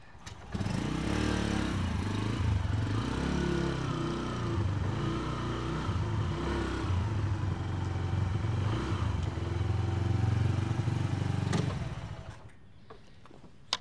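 A Bajaj Freedom 125 CNG motorcycle with a five-speed gearbox hums along steadily as it is ridden for about eleven seconds. Its engine drone fades away abruptly near the end.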